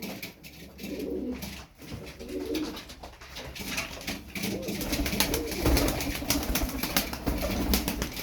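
A male blue Taklacı tumbler pigeon with feathered feet and yellow eyes, coos repeatedly nearby in a loft, with soft wing flutters and rustling between the calls.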